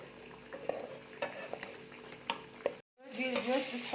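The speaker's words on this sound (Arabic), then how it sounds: "حطيت البصله ونقعد نقلي فيها حتى تدبل البصله تبدل اللون تاعها" Onion frying in butter with chicken wings crackles and sizzles close by, with intermittent stirring scrapes in the pan, a brief cut to silence, then louder, livelier sizzling.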